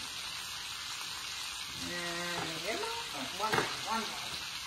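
Steady crackling sizzle of butter frying in a pan, continuous and close, with a few clinks and scrapes rising over it midway.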